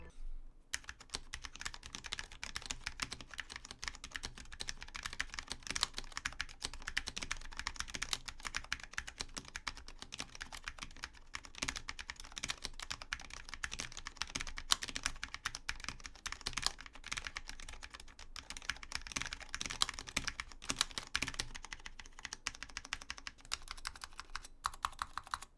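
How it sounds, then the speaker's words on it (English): Low-profile Cherry MX Red switches on a white Cooler Master SK630 keyboard with ABS plastic keycaps are typed on steadily and quickly. The clicks and clacks run close and continuous for about 25 seconds, with no talking. "here's a quick sound test of the low-profile Cherry MX Red switch on the SK630"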